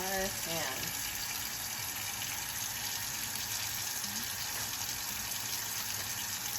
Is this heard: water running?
yes